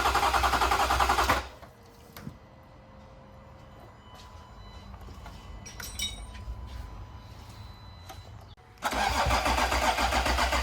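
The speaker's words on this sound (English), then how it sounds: "my camera storage actually got full as the engine started" A diesel Range Rover engine cranks and fires, a broad loud roar at the start, then settles into a quieter steady idle with faint clicks and hum, before the loud engine noise surges back near the end.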